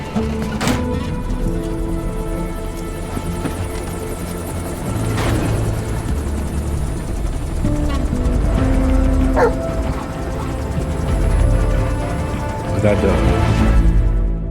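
A dog barks and yips in Metal Gear Solid V: The Phantom Pain, heard in short bursts over a loud, steady helicopter rotor drone with game music and effects throughout.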